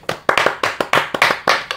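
A few people in a racing podcast studio clap hands together in a quick, steady burst of about eight sharp claps, close and loud, with no talking over them.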